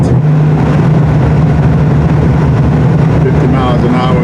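Triumph TR6 car engine running in overdrive at road speed, a steady low droning hum with a constant pitch, close and continuous for the whole stretch, with faint wind and road noise.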